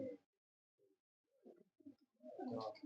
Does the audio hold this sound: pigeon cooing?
yes